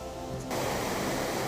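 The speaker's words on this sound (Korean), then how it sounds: "물소리가 크게 들리는 걸 보니 내 터졌나요?" A swollen mountain stream rushes loudly beside a forest trail on Hallasan, a steady dense roar of water that rises sharply after a quieter opening moment.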